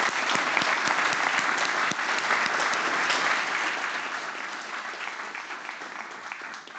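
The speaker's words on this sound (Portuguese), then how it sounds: "uma forte salva de palmas" Sustained audience applause at a cooperative credit union's annual general assembly, many hands clapping loudly and evenly, tapering slightly toward the end with no talk over it.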